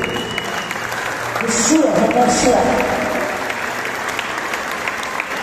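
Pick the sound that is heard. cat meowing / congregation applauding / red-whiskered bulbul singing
congregation applauding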